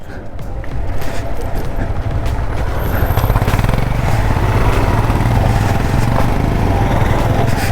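Motorcycles ride along a road on a trek to Channagiri Rangayyanagiri, giving a loud, steady engine drone with rumbling low tones that holds throughout without a break.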